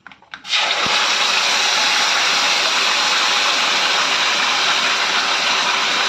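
Tamarind tipped into a hot tempering of fried peanuts bursts into a loud, continuous sizzling and bubbling roar that begins abruptly and holds steady, close up, with no talk.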